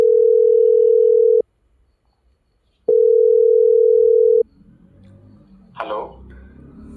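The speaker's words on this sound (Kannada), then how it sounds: "ರಿಂಗ್ ಆಗ್ತಾ ಇದೆ" A phone call's ringback tone sounds as two long, steady beeps separated by a silent pause, loud and clear, followed by faint background noise.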